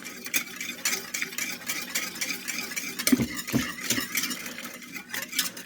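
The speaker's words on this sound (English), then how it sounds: "let's mix our cream cheese with a whisk" Cream cheese sauce being whisked in a pot on the saute setting, with a steady run of scraping, clinking strokes at a busy, irregular pace, close and moderately loud, with no talking.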